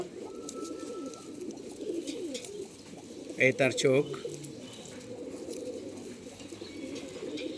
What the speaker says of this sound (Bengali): আরেকটা জাবরা কবুতর দেখাচ্ছি